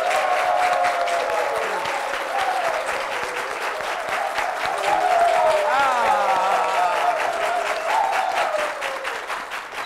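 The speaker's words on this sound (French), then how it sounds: "Aidez-moi à accueillir, à applaudir comme il se doit, Monsieur Richard Flash." Studio audience applauding to welcome a guest onto a French live show, a steady wash of clapping throughout with a voice talking and calling over it.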